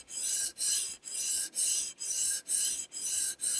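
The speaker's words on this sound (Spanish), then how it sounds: "escuchar cómo está trabajando el grano" A fine 1000-grit sharpening stone drawn over a steel knife blade on a TSPROF guided sharpener, a bright hissing rasp in eight regular strokes about half a second apart, close and even with brief gaps between passes.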